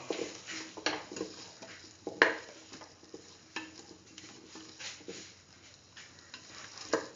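Chili powder being stirred into split chickpea and chayote rice cooking in a pot, with repeated close scraping and stirring strokes over a soft sizzle and irregular bursts of utensil scraping.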